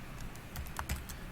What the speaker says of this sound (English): I have to make sure that I'm actually typing it.